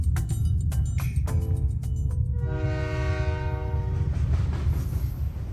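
A train on Ecuador's mountain railway, with a rumbling engine and wheel clatter under a loud horn that sounds in short blasts, then one long sustained blast, close and dominant.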